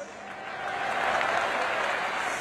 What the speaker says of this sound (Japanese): このマリーンズファンの大きな声援、どう聞こえてましたか？